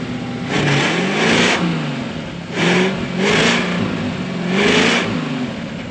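A diesel truck engine, started with the choke on, revs up and down in repeated surges, rumbling and loud up close, with no voices.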